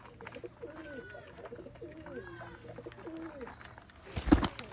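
Pigeons cooing close by in the morning, a run of soft rhythmic coos lasting several seconds, followed by a brief loud rustle near the end.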